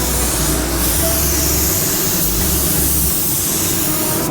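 Spray gun laying down a coverage coat of paint, a steady continuous hiss of atomized spray that holds loud and unbroken from start to finish, with no talking.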